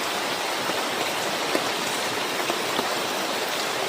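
Steady, heavy rain pours down continuously, a dense even hiss with scattered louder drops hitting nearby surfaces.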